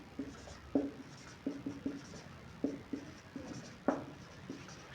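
A maths question being written out by hand, with quiet close scratches and taps of pen or chalk on a surface in short, irregular strokes, faint and without speech.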